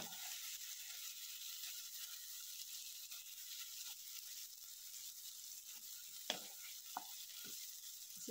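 Green garlic chutney is briefly sautéed in a pan, giving a faint, soft sizzle with a few stirring clicks and scrapes near the end, no voices.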